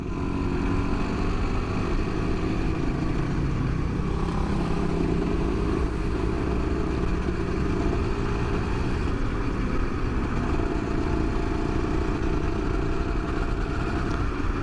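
A Honda NSR 150 SP motorcycle being ridden, its two-stroke engine droning steadily and loudly throughout with constant wind and road rumble, no pauses or speech.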